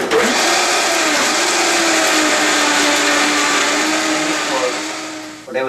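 A blender whirls coconut with warm water in one loud, steady, continuous motor whine that holds for several seconds before easing down at the end.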